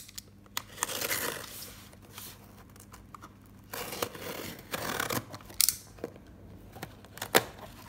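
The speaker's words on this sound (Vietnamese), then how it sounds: "Sau đây chúng ta sẽ cùng nhau cắt cái box này." A shipping box being cut open, with irregular snips and rasping slices through cardboard and tape, some crinkling in between and a few sharper clicks near the end, close and fairly quiet, with no one talking.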